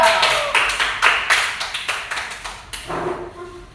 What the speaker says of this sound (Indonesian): tepuk tangan untuk Alia